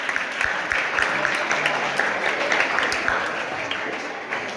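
Audience applause from a crowd at a Jain community talk in Rapar, a dense, steady wash of clapping sustained throughout at fairly loud level, without clear breaks.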